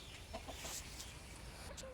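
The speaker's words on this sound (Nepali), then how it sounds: "यो दुईटा चाहिँ भाले र पोथी नयाँ हो।" A newly acquired rooster and hen at a Nepali village house give faint, scattered clucks against steady outdoor background noise.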